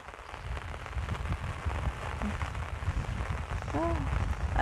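Rain falling outdoors with wind, a steady broadband wash that stays fairly loud throughout, with low rumble and a brief higher whistling tone near the end.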